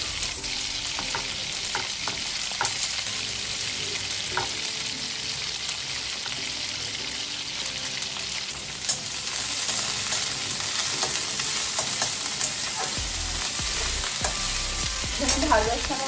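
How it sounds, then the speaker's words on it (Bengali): Vegetables fry in a pan with a loud, unbroken sizzle and crackle, and stirring adds scraping clicks throughout, with no talk. "আগে ভেজিটেবলসগুলো ভাজা হয়ে গেলে তারপরে আমরা বাকিগুলো স্টার্ট করব"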